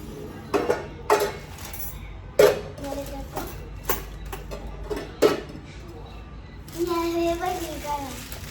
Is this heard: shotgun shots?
no